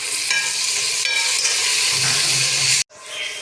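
Green chilies, tomatoes and garlic paste frying in oil with browned onions for a pumpkin curry, giving a steady loud sizzle with stirring scrapes, a brief drop near the end, then sizzling again.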